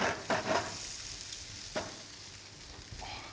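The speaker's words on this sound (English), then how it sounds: "You want them kind of sizzling like that." Potatoes fry in hot fat with a soft, steady crackling sizzle, broken by a few scraping stirs of a utensil in the pan.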